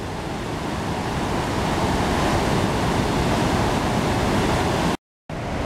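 The Chutes du Calvaire waterfall roars as a loud, steady, close rush of turbulent water, broken only by a brief dropout near the end, with no talking.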